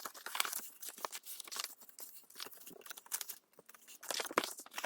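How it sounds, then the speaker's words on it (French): Card stock being creased along its fold lines by hand, giving a steady run of dry crinkling, scraping and crisp crunching strokes, close and fairly quiet, with no talking. "Maintenant, je marque bien tous les plis."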